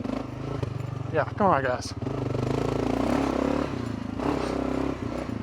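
A Gen 3 Kawasaki KLR 650 rumbles steadily on a rough off-road trail with rocks and a small jump, its engine drone continuous and close while a rider talks over it and brief clatter breaks through.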